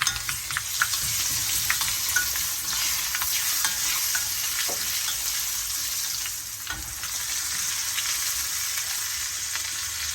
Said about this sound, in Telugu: తాలింపు కోసం నూనె పెట్టి జీలకర్ర ఆవాలు అయిన తర్వాత ఎండుమిర్చి వేసారు.